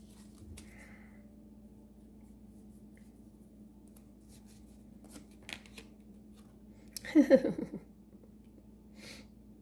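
A card drawn from a shuffled deck makes one brief, close papery flurry late in an otherwise quiet stretch with a faint steady hum.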